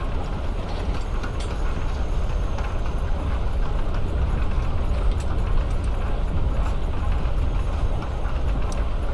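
A train rolls steadily along in the video game Life is Strange: Before the Storm, a constant rumbling clatter with faint rhythmic clicks throughout and no talk.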